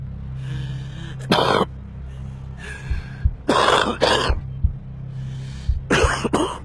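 Smoker's cough: several separate bursts of harsh, hacking coughs with short pauses between them, close and loud over a low steady background hum.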